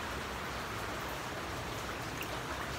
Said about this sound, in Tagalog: bugso-bugso yung ulan.